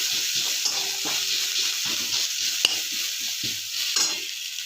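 Ginger and garlic fry in a little oil, a steady close sizzle with occasional stirring scrapes and small clicks of a utensil against the pan.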